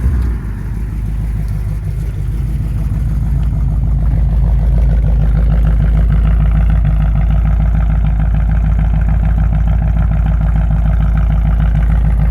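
A warm 1966 Ford Falcon engine with glass-pack mufflers turns over and catches quickly, then settles into a loud, steady, burbling idle close by for the rest of the time.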